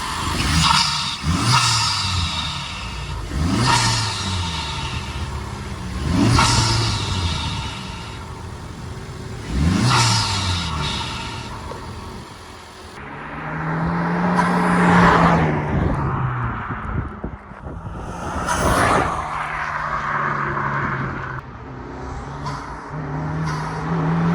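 A Honda Civic Type R FL5 fitted with a PRL intake revs repeatedly in several swelling pulls, then settles into a rumbling idle with further blips, loud and close in an engine bay.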